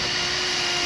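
A drill bores countersinks into screw holes in a wooden boat, giving a steady, close, loud whirring drone with no pauses and no voices.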